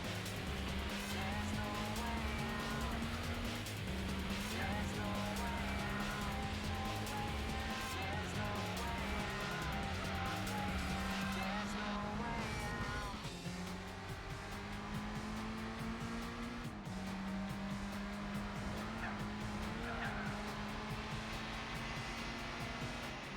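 Suzuki car with a six-speed gearbox racing in Gran Turismo 4, a steady engine drone that climbs in pitch, drops at each gear change and climbs again, loud and continuous with no talk over it.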